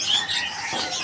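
Small caged birds chirp at a kiosk in a bird market, a brief cluster of high tweets over a light ambient background.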